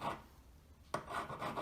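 A file rasps across the solder join on a handmade wedding ring in two short, close strokes separated by a quiet pause.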